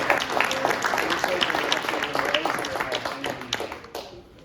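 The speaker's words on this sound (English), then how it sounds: "Let's give another huge round of applause to Victor." Audience applause at a community event, many hands clapping at moderate volume, thinning out and fading toward the end.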